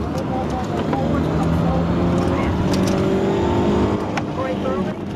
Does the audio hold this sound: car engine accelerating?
yes